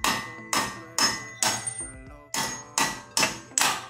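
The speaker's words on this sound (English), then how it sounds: "hammer these out of their socket." Hammer driving wheel studs out of a wheel hub, eight sharp metallic blows in a fairly even rhythm with a short pause midway, close and ringing, no talk.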